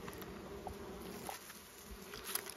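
Honey bees buzz around heavy hive frames full of honey and pollen, a steady, faint, close droning hum with a few louder passes near the end.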